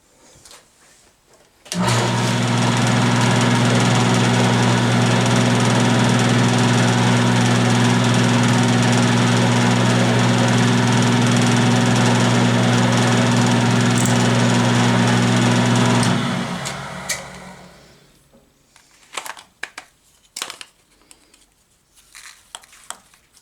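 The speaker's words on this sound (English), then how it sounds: "we'll take you over to the mill and we're going to drill that 1/8 inch steam passage hole" A milling machine drilling a 1/8 inch steam passage hole in steel runs loud and steady with a strong hum and grinding drone for about fifteen seconds, then shuts off, leaving scattered clinks and handling noises.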